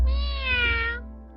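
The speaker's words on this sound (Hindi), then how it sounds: "बिल्ली यहाँ पर?" A single drawn-out cat meow from a cartoon, clear and close, rising and then fading over about a second.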